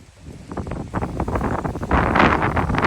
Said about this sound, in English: that wind is a blow